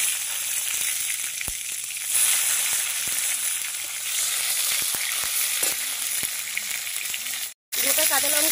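Tomatoes fry in hot oil in a kadai with panch phoron, dried red chillies, bay leaves and green chillies, giving a loud, close, continuous sizzle with a few light clinks and a brief break near the end.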